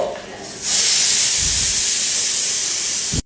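A pressure cooker vents steam while tehari cooks, a loud steady high hiss bursting on abruptly and holding for almost three seconds before cutting off, with faint talk in the background.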